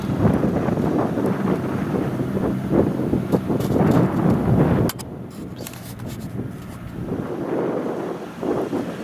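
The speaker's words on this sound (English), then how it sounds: "Windy." Strong wind buffets the microphone in a steady roar on a chilly February day beside the South Platte River in Colorado, easing slightly partway through but continuing throughout.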